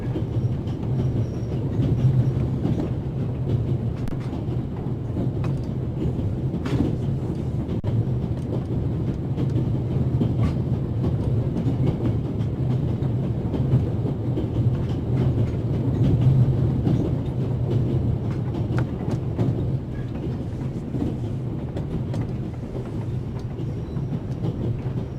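Inside a moving passenger train in the game The Raven: Legacy of a Master Thief, a steady rumbling rattle of carriages on the tracks fills the space, with faint clicks and knocks, constant and unbroken.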